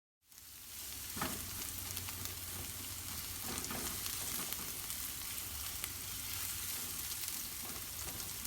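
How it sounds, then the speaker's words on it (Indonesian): Garlic and onion sautéing in a little oil in a wok, a steady close sizzle with occasional stirring scrapes, no talking. "Tumis bawang putih dan bawang bombay."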